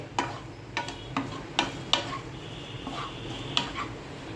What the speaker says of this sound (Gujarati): અને લાસ્ટમાં થોડી કોથમીર એડ કરીને આપણે બધું સરસ રીતે મિક્સ કરી લઈએ